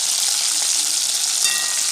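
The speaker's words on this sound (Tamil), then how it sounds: "ஃப்ரை பண்ணும்போது நீங்கள் இப்படியே சிக்கன் திருப்பி போட்டே இருங்க." Chicken pieces sizzle steadily in hot oil for chicken sukka while being turned over, a dense, continuous, close crackle with no voices.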